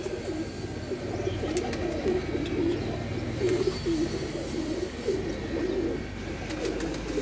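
Female Ferozpuri pigeons coo steadily and repeatedly, soft low rolling calls over a constant background murmur, with faint higher chirps now and then.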